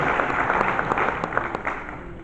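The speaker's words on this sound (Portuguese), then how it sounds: "Um aplauso muito forte a todos os jogadores da época passada" Loud, steady applause from an audience honouring football players at a football association anniversary ceremony, dense clapping sustained throughout with no talk.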